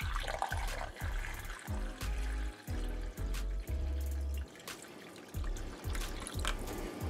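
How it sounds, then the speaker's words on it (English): A cup of water is poured into a slow cooker for barbecue neck bones, a gurgling liquid stream with repeated splashing pulses that rise and cut off, fairly close, with no talk over it. "I'm gonna add to that a cup of water."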